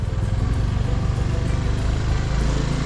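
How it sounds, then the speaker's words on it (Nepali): A scooter engine drones steadily and close throughout, held at a constant strain while riding uphill toward Bhairavkunda Lake in Sindhupalchowk, with no talking over it. "यो स्कुटर मजाले जान्छ होला"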